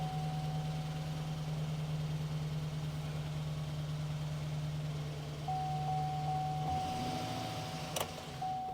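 A GMC Sierra 1500 pickup with a weak, failing oil pump idles steadily in a low continuous drone, with a faint tonal whine riding over it and a brief clunk near the end.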